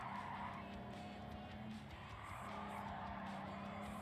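Car skidding in a driving game, a continuous loud rumbling tire-and-engine roar with a squealing, sliding quality held for a few seconds.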